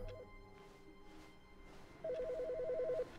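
A telephone rings in The Stanley Parable, a short electronic trilling burst near the start and then a steady, clear run of rapid warbling rings over a quiet indoor hum.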